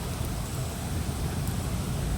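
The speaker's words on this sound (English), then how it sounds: "Yes, it's raining." Rain falls steadily in a brief stretch of dense, even hiss, with no talking.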